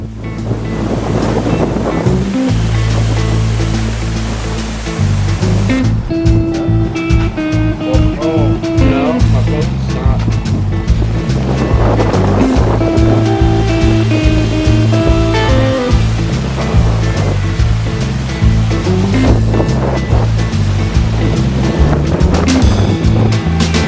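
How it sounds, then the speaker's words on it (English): A violent windstorm roars against the microphone in a small Arizona desert town, loud continuous buffeting gusts with deep rumbling bursts throughout, all close and overwhelming. "Gosh, this windstorm is just crazy."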